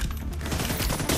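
Rapid automatic gunfire from The Division 2 fills the short moment in a dense, continuous burst of loud overlapping shots, with no talking.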